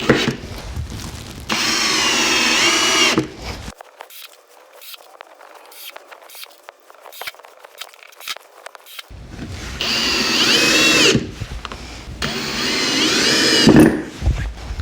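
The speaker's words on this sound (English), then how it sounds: "are going to do 50 1¼ inch wood screws into this 2x4" A Kobalt 24V cordless drill driving 1¼ inch wood screws into a 2x4, with loud whirring bursts of the motor, a quieter stretch of ticking and clicking between them, then two more strong runs close up.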